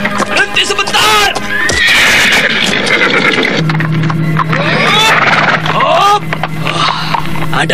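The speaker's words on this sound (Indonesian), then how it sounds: "Telingaku baru saja menangkap suara derap kaki kuda" Horses neigh and whinny loudly over clip-clopping hooves, several high, wavering calls overlapping close by, while a voice speaks and a low drone sits beneath.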